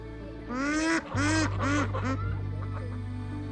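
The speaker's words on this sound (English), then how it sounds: "What little still remains of the ever-evaporating lake has been graced by the most beautiful birds" Several loud nasal quacks from ducks nearby, repeated in a quick series over a steady low background hum.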